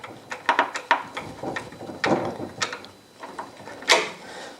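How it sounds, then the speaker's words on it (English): Wrench and nut work on a Stern KISS pinball machine shaft gives a run of close, sharp metallic clicks and ratcheting scrapes in short irregular bursts, with brief pauses between them. "So you kind of got to hold the shaft as you're tightening down on the nut."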